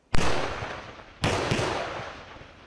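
A military tank fires its main gun on a training range: two sharp, loud blasts about a second apart, each followed by a long rumbling decay, heard outdoors with no speech.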